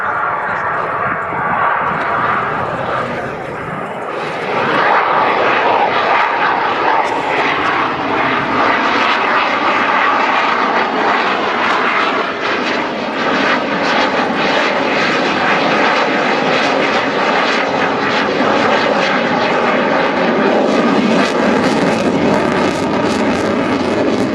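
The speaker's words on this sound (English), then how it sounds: "This is when you see the aircraft flying past with the nose very high at slow speed, high angle of attack." A Czech JAS 39C Gripen fighter jet flying a display at RIAT, a loud continuous jet roar that swells and rumbles at slow speed with high angle of attack, under a commentator's talk.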